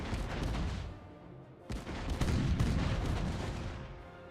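Ship cannon fire during a naval battle against a corvette in the pirate game Caribbean Legend: rolling booming volleys, a heavy barrage then a second salvo after a brief lull, loud and reverberant.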